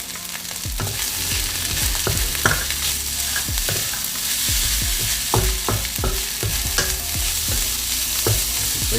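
Pork fried rice with green onions stir-fried in a wok, a steady close sizzle with repeated scraping and clacking of a spatula against the pan, no voices.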